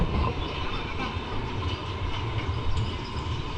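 A train rumbles past with a steady roar and faint clattering of wheels on rails, continuous and fairly loud.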